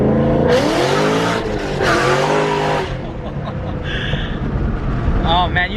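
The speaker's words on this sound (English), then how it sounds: "Oh man, you don't even grip now. That spins it bad." A supercharged Shelby GT500 breaks traction, its tires squealing in a loud harmonic screech over the revving engine, with excited voices talking over and between the bursts of wheelspin.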